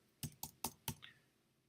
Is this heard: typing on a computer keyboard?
yes